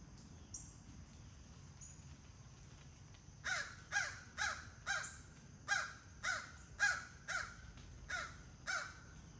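After a few quiet seconds, a crow launches into a steady run of about ten loud, harsh caws at an even rhythm, with faint insects buzzing in the background outdoors.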